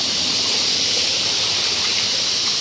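A small river near Nasuli Lake in Valencia, Bukidnon, gives off a constant broad rush of flowing water, loud and even throughout, with no talking.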